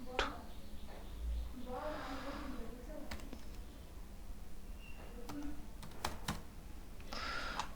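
Typing on a computer keyboard, scattered bursts of light key clicks and taps, faint and close, with a voice talking at times.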